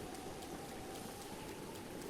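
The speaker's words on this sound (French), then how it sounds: "Je vois rien avec la pluie." Rain in The Legend of Zelda: Breath of the Wild, a steady, faint hiss of falling rain with no break and no talking over it.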